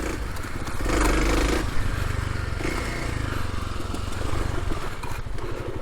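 A Kawasaki KLX300 dual sport motorcycle rides past with its single-cylinder engine buzzing steadily and loud, swelling briefly near the start, with some clatter and scraping from the trail.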